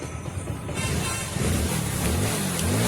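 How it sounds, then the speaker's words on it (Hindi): A Hero Splendor BS6 motorcycle engine idles nearby and then is revved up, its low rumbling rising into a fuller, louder drone; the bike has a misfiring fault with spark plug current cutting out. "आपको मैं आरपीएम भी दिखा रहा हूँ, रेस लेके भी दिखा रहा हूँ, गाड़ी बिल्कुल स्टार्ट है"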